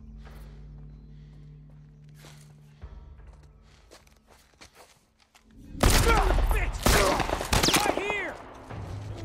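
Gunfire in The Last of Us video game: quiet footsteps and ambient hum give way to a loud, close burst of several rapid shots with ringing echoes, mixed with a voice talking.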